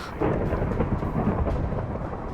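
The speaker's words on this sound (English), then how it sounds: "Some very angry storms." Thunderstorm in the Minecraft video game, a steady dense rumble of thunder with rain hiss, loud and continuous with no voices.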